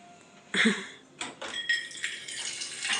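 Water splashes into a container in a home kitchen, in several short bursts of pouring and trickling, fairly close and moderately loud, with a few faint clinks of dishes between them.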